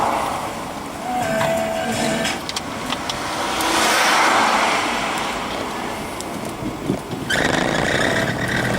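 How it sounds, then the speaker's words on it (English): Steady stream of cars passing on a busy road on a summer weekend afternoon, the A470 between Dolgellau and Aberystwyth in North Wales, swelling and fading as vehicles go by, with one louder pass near the end. "it's a right session of cars"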